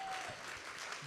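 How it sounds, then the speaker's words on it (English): A short burst of audience clapping at a skin-care lecture as the crowd applauds Chris Robb, dense and fairly loud for about a second. "a standing round of applause for Chris Robb?"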